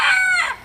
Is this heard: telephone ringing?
no